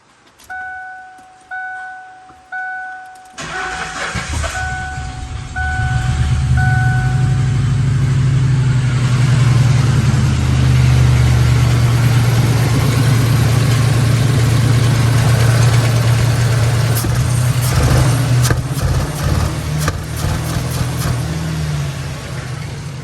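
A $500 Lincoln Town Car with fresh spark plugs: a few rapid chime tones, then the starter cranks in several short bursts before the engine catches and settles into a loud, steady, rough idle that continues to the end.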